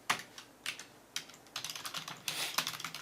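Quiet clusters of keystrokes on a computer keyboard, typed in short irregular bursts with small pauses between them, close and soft with no talk.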